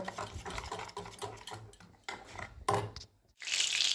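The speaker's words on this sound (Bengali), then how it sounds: "এবার বেসনটাকে খুব ভালো করে ফেটিয়ে নেব" Gram flour (besan) batter is beaten briskly in a bowl, a run of quick, close, rhythmic wet slaps and scrapes with brief pauses, ending in a bright hiss.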